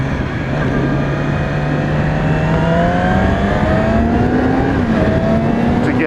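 A Yamaha R6 sport motorcycle engine revs hard and steadily, its pitch climbing over several seconds with a brief dip near the end, loud and close with no talking.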